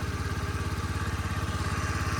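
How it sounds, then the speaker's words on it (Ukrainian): A carbureted Honda Dio AF-62 scooter engine runs at idle close by, a steady, even putter with a regular pulsing rhythm and no voices. "з кікстартера заводиться без ніяких проблем"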